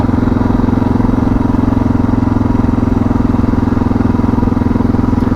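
Suzuki DR650 motorcycle with a modified exhaust and carburettor, ridden at a steady pace: a loud, continuous engine drone with a fast, even pulsing throb that holds constant throughout, with no talk.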